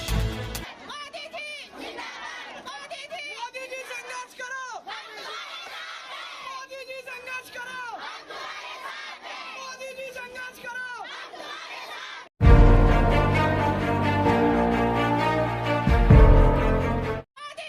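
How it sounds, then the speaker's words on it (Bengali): Crowd of Muslim women chanting pro-Modi 'zindabad' slogans on a street in Uttar Pradesh in support of the Waqf bill, massed voices in repeated rhythmic cries for about twelve seconds before loud music takes over. "তারা মোদিজির জিন্দাবাদ বলে স্লোগান তুললেন"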